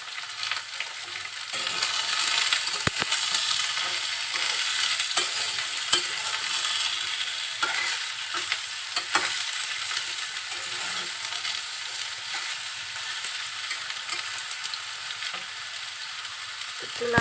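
Pointed gourd and potato frying in a pan with potato, a continuous crackling sizzle with occasional scraping stirs, fairly close and steady throughout with no voices.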